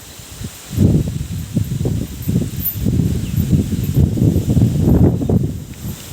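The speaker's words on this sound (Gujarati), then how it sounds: "બાકી મિત્રો પવન બહુ છે જોરદારનો" Strong wind buffets and roars in loud, uneven gusts, with rustling mixed in throughout and no one speaking.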